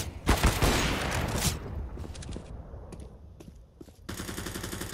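Rapid bursts of automatic gunfire from the video game Call of Duty Warzone, loud and dense at first, then scattered single shots, and a renewed steady burst near the end, with no talk.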